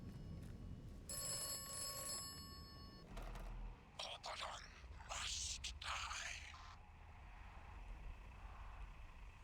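A telephone rings in a quiet scene of the video game Atomfall, a brief burst of ringing followed by a few clicks and rustling sounds, and then a person talks over faint background ambience.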